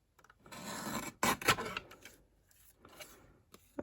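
Paper is trimmed for a small handbag-style gift bag, with short scraping and rasping strokes, a couple of sharper snips, close and fairly quiet.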